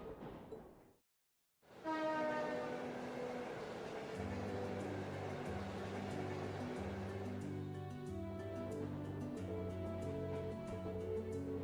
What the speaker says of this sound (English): This transcontinental train is bound for Crossbow.